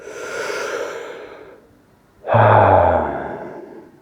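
Deep breaths taken while holding a straddle stretch, one long airy exhale, a brief pause, then a stronger voiced breath, close and clear with no talk.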